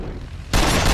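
Gunfire in the Arma 2 video game, a sudden loud burst of shots that starts halfway through and roars on continuously at close range after a quieter lead-in.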